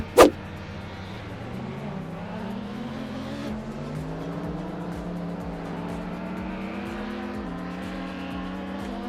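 Cadillac V-Series.R race car lapping the Oulton Park circuit, its engine droning loudly and rising steadily in pitch through the gears after a sharp click at the start, with no talk.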